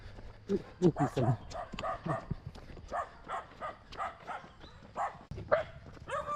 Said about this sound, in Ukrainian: А собаки місцеві нас явно недолюблюють.